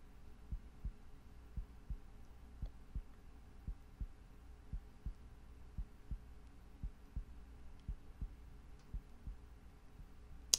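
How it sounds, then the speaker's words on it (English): Steady heartbeat thumping in a video game, a regular low double-pulse repeating about twice a second over a faint hum, with no voices. "There's a heartbeat."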